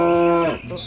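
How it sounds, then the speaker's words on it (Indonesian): A dairy cow in an animal cleaning video game lets out a single loud, close moo that fades off after about half a second. "Wih, sapi penghasil susu."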